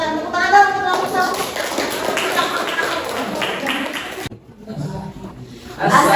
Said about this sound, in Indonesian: Silakan tepuk tangan dong untuk kelompok 1.